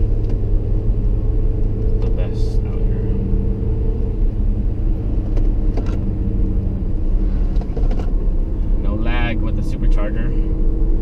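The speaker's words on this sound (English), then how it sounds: "Supercharger." Supercharged Acura RDX engine while driving on a canyon road, a continuous low rumble from inside the vehicle with brief bursts of talk over it.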